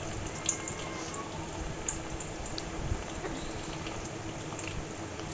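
Chicken pakoras fry in a pan of hot oil, a continuous dense sizzle and crackle with small pops, steady and close throughout.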